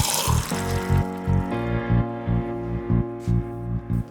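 Water doses through a FlowWave demonstrator fitted with a manual ball valve and sight glass, a steady flow carrying a regular pulsing rhythm of repeated low thumps from the dosing rig, close and fairly loud with no talk.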